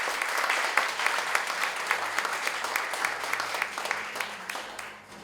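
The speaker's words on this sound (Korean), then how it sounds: "우리 김동희 님을 큰 박수로 모시기 바랍니다" An audience at a Bixby developer meetup applauds to welcome a CBS speaker to the stage, a dense, steady crowd clapping that holds for several seconds before fading at the end.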